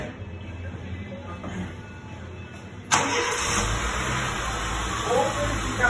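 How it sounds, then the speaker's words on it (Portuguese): A car engine cranks and catches about three seconds in, then settles into a steady, fairly loud idle, with faint voices in the quiet stretch before it starts. "Vou ligar o carro."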